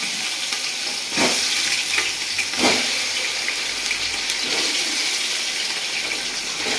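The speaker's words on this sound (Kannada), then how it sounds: "ಒಂದು ಕಾದಿರೋ ಪಾತ್ರೆಗೆ ಎಣ್ಣೆ ಹಾಕಬೇಕು. ಆಮೇಲೆ ಚಿಕನ್ ಹಾಕಬೇಕು" Loud, steady sizzling of chicken frying in hot oil, with a couple of sharper bursts as pieces hit the pan; no talking.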